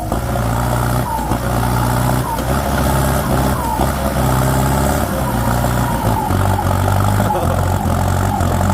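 A Massey Ferguson 6640 tractor strains hard on farmland. Its engine gives a loud, sustained, labouring drone with small surges in revs, and voices sound faintly in the background.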